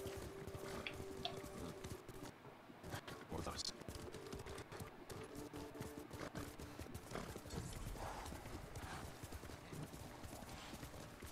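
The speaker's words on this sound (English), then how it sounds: "Horse!" Horse hooves clip-clop steadily in the video game Ghost of Tsushima, a continuous trotting rhythm over ambient game sound, with a brief whinny and a person talking over parts of it.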